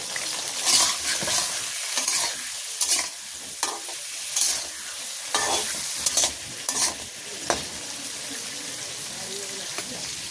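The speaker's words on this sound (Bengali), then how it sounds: "আলুটা সুন্দর করে লাল লাল করে ভাজি করে নিলাম" Potatoes seasoned with salt and turmeric frying in a pan in a village kitchen, a moderate sizzle broken by repeated stirring scrapes and clinks, heard close with no clear talking.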